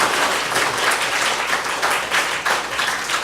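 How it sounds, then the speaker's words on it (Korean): A church congregation at a dedication and ordination thanksgiving service claps loudly and continuously, a thick sustained roar of hands with slight swells in intensity. "박수가 약해요. 더 크게."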